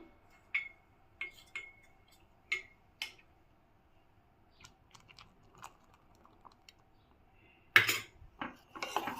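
A spoon stirs almond milk in a pan, giving sparse, faint metallic scrapes and clinks at irregular intervals, with a louder cluster of clatter near the end.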